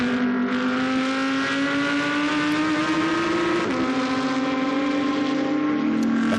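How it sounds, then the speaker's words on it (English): GT2 race cars at the Paul Ricard circuit howl past at speed, a loud sustained engine roar with a steady rising pitch, a brief dip in the middle and a second car continuing close behind. "Over the line goes Henri Hassad, and as he goes through there you can see just rejoining ahead the number 7 Porsche"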